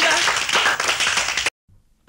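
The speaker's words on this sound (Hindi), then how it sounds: "ताली बजा।" Hand clapping during a storytelling children's program, a burst of quick claps for about a second and a half before cutting to near silence.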